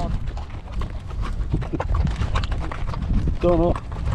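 Horse hooves clip-clop in a steady walking rhythm close by during a ride in the desert, as people chat over them, with a brief high call near the end.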